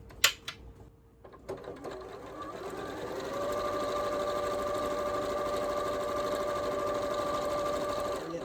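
Domestic sewing machine closing a seam on a panettone holder, starting after a few clicks and handling sounds, then running in a steady, even hum at close range with no pauses.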